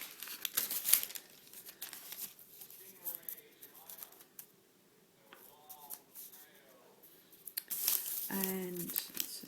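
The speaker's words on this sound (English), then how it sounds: "I'm going to grab some baking paper." Baking paper is handled and crinkled in bursts of crisp rustling and crackling, close by, with pauses between. A voice speaks briefly in between while fondant is shaped.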